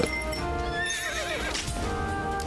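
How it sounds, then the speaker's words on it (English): Horse hooves clip-clop steadily while a horse neighs and whinnies in the Dynasty Warriors Origins video game, with layered game music and effects running continuously beneath. "We get a horse."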